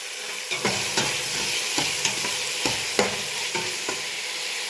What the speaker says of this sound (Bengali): একটু নেড়ে চেড়ে দিচ্ছি যাতে আমার তেল আর সবগুলো মিশ্রণ মিক্স হয়